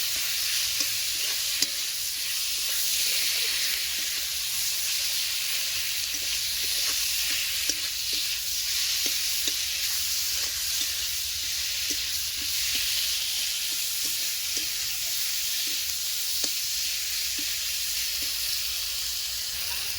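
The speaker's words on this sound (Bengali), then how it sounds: "লঙ্কার গুঁড়ো, এক চামচ চিনি। ভালো কষিয়ে নেব।" Chilli powder and spice paste with a spoon of sugar sautéing in a pan, a steady close sizzle and hiss with regular soft scraping strokes of stirring throughout, no voices.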